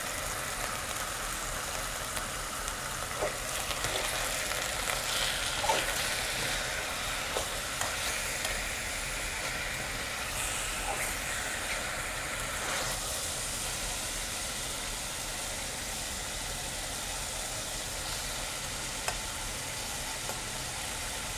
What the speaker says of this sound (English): You hear how that sizzle's getting a little muted?